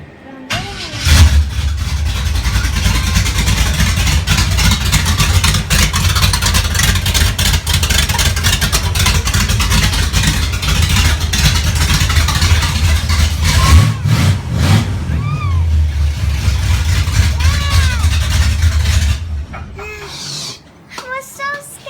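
A 1937 Ford car engine cranks and catches, then runs loud and close with rough idling and repeated revs for about twenty seconds before cutting off. Voices can be heard around the car.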